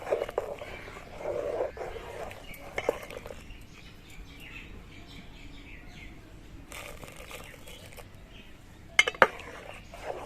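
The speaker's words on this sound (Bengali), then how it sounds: "আমি অল্প করে চষি নিয়ে ছড়িয়ে ছড়িয়ে দিচ্ছি আর নাড়ছি" Chushi pitha is stirred in a cooking pot, giving soft intermittent scrapes and clinks of a spoon against the pot, mostly quiet with a few sharper knocks near the end.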